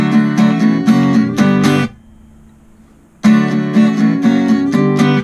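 Guitar strumming the first-verse chords of a song, bright full chords in steady rhythmic bursts, stopping for about a second and a half of near silence before the strumming resumes, loud and close with no voice.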